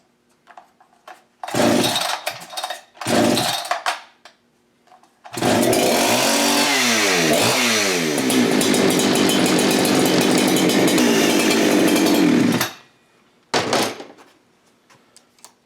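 An Echo CS-600P chainsaw is pulled over in two short bursts, then catches and runs loud and steady for about seven seconds with revving swells before cutting off, followed by one brief final burst.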